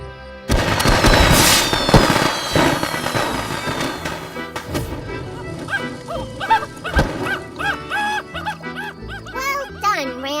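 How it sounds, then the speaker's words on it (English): Fireworks burst loudly in an animated cartoon, a dense crackling barrage of pops and bangs that fades into cheering and cartoon voices singing and talking. "Got the fireworks?"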